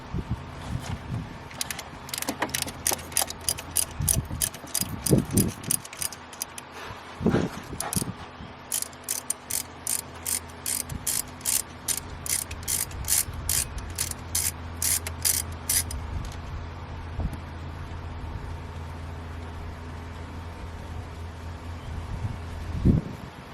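Rapid ratcheting clicks from a wrench working alternator bolts on a 2007 Saturn Ion 2.2L come in repeated bursts, with occasional knocks and clunks between them; close and fairly quiet, with no talking.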